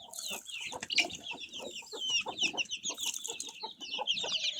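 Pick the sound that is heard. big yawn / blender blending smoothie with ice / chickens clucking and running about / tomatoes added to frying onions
chickens clucking and running about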